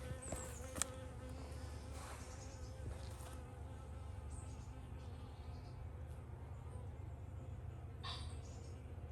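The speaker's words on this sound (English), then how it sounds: "That's actually another bee going in." Honey bees buzzing around a beehive, a faint continuous hum of insect wings with a few closer passes and small clicks, heard alone without talk.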